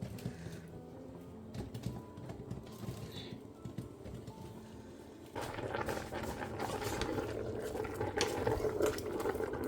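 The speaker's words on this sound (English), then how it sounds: "I want to leave it to boil before I pressurize." Water bubbles and churns at a steady boil, growing louder and busier partway through, with faint clicks and rattles from the pot.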